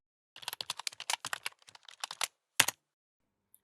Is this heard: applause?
no